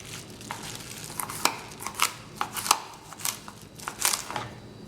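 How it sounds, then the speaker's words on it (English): A knife chops freshly picked kale on a cutting board in a home kitchen, with quiet, irregular thuds and crisp leafy cuts at close range, no voices. "chopping up some of this kale that I just picked"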